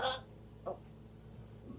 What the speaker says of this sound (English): I can't keep burping.